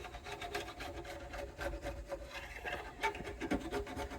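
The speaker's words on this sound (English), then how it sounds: "this auger bit file works great for fret ends" A flat file rasps across the fret ends of a Gretsch Streamliner guitar, giving a series of close, quiet scraping strokes with short pauses and a few brighter scrapes near the end.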